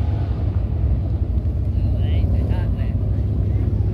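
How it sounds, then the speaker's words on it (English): Dirt bomber race cars hot-lap a dirt track at Cherokee Motor Speedway in Gaffney, South Carolina, a continuous low engine rumble heard from a distance, with a few faint higher tones briefly rising above it. "Now them dirt bombers. They got somebody already out there racing."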